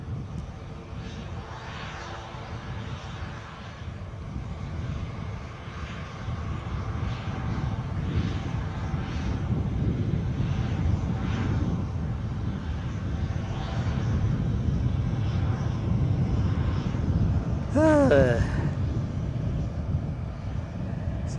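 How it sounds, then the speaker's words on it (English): Bombardier Global 5000 business jet engines rumble steadily at an Edinburgh airport, a broad low roar that swells gradually and holds, with a brief chirping sound near the end. "So this being an example of the Bombardier Global 5000"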